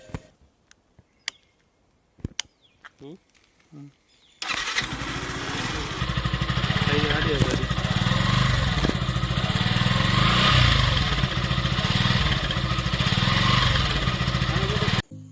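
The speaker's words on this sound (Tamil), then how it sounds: "இந்த பைக்கை வந்து ஸ்டார்ட் பண்ணுறேன், அதோட நோட் எப்படி இருக்குன்னு பாருங்கள்" A few faint clicks and knocks, then a 2020 Yamaha FZS-FI V3 motorcycle engine fires up and settles into a loud, steady, throbbing idle that continues close by.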